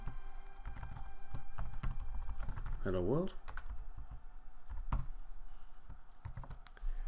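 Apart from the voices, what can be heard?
typing on a computer keyboard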